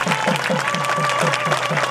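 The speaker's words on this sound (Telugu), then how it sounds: "అందరు గట్టిగా కొట్టండి చప్పట్లు." Crowd applause at a Shiva–Parvati wedding ceremony in a Kotagalli Maisamma temple, dense clapping blended with a steady ritual chant and rhythmic background music.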